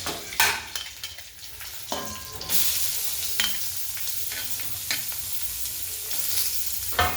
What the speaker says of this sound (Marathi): कांदा चांगला लाल होऊ द्यायचा शिजू द्यायचा अशा प्रकारे हलवून घ्यायचं